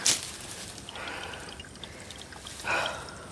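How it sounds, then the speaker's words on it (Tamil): Water runs out of a village water outlet in a soft, steady trickle and pour, rising into brief louder gushes near the start and end, quiet and close with no talk. "இது தண்ணி வருது."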